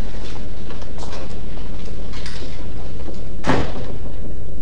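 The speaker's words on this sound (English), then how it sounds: "Shut the door behind you." A door is shut with a single loud thud partway through, heard against a steady background hiss in an audiobook scene.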